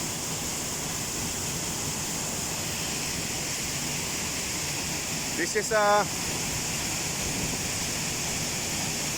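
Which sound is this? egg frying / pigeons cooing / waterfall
waterfall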